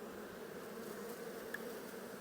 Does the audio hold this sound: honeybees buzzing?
yes